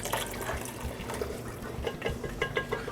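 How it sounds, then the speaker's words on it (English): Hot chicken broth poured off and drained into a container in a home kitchen, a close, continuous liquid splash and trickle with small gurgles and drips toward the end. "next I drain off all the broth"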